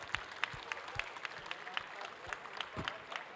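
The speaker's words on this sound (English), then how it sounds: "Round of applause, please." An audience at a convention Q&A panel claps in quiet, scattered applause, individual claps distinct and somewhat distant, with a faint voice underneath.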